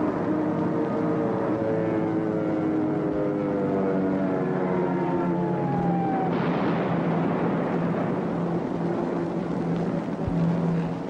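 Aircraft flying overhead in a 1942 wartime spy film, a loud steady propeller-engine drone with a falling pitch as the planes pass, followed by a dense rumbling roar.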